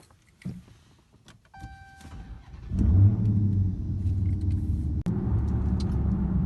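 A car drives off after brake work, its engine and road rumble building to a steady, loud drone after a few quieter seconds of clicks and cabin sounds.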